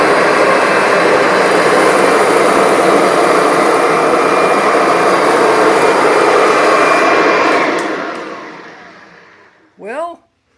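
A Kirby G6 vacuum cleaner runs on shredded paper with a loud, steady roaring whine, then winds down and fades over a couple of seconds before a brief voice is heard.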